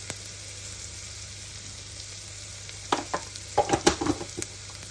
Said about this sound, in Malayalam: ഇത് നമുക്കൊന്നുകൂടെ ഒന്ന് ഇളക്കി.